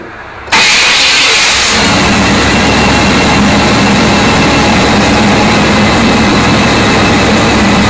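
After a moment of quiet, the engine of a 1996 Tahoe cranks and catches abruptly, then settles into a loud, steady running rumble close by.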